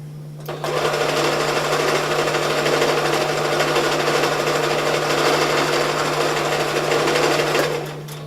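A sewing machine stitches pillow fabric in one steady, loud, continuous run with a low motor hum, starting abruptly and stopping near the end, close by and with no voices.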